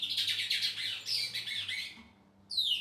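A six-month-old bicudo chick tries out its first song, giving a quick run of harsh, close squawks and chirps, a brief pause, then a final burst of sharp calls.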